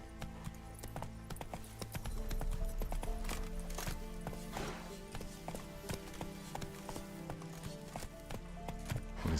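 Horse hooves clip-clop at a steady trot under a rider in a video game set in Velen, a continuous rhythmic patter over a low ambient bed, with light tapping through the whole ride.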